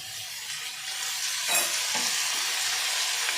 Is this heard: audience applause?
no